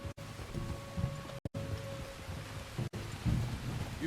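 Rain falls steadily with low rumbles of thunder in a Red Dead Redemption 2 game scene, a soft, even wash of patter under a faint hum, broken by a few sudden brief dropouts.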